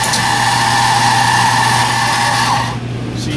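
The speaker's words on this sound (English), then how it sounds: "So we grind, don't grind the coffee ahead." Coffee grinder in an Ann Arbor café grinding beans for espresso, a loud, steady motor whine that runs close up and then cuts off shortly before the end.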